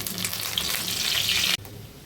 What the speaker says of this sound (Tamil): இது பார்த்தீங்கன்னா நல்லா பொரிஞ்சு வருது.